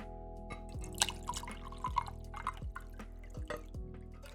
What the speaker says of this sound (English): Let's get some water bottle ASMR going